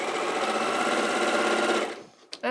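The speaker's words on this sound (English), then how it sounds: "I'm just putting all 4 of these through the machine in one go" A sewing machine chain-pieces four quilt blocks in one continuous run, a loud steady whirring hum that stops abruptly near the end, followed by a brief click.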